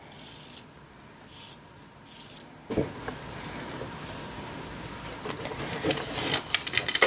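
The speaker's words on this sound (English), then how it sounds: "That's just a simple cut down a seam." Scissors cut down the seam of a T-shirt, a soft scraping and snipping that grows denser and louder toward the end, close up with no talking.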